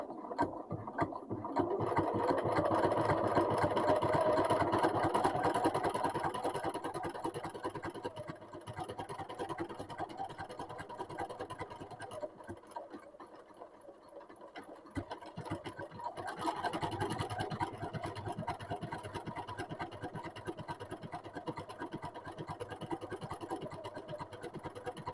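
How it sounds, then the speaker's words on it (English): A sewing machine stitches a buttonhole with an automatic buttonhole foot, giving a quiet, steady mechanical whir with a brief pause partway through. "This is my automatic buttonhole foot. It's all set, so I should be able to just sew"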